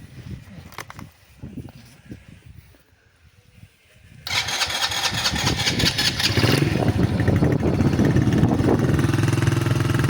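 A restored children's quad bike engine fires up after a quiet stretch of handling noises and settles into a loud, steady idle close by, with no voices.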